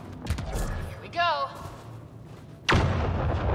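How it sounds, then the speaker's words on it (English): A localized explosion in the video game Mass Effect: Andromeda lands as one sudden, loud, booming blast late in the clip, preceded by a brief whistling electronic tone over steady low game ambience. "That was a very localized explosion, but we did it."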